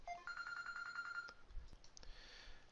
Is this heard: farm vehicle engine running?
no